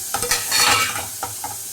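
Close-up sizzling of spices sautéing in a hot pan with a few scraping stirs of a spoon, short and crackly, with no voices.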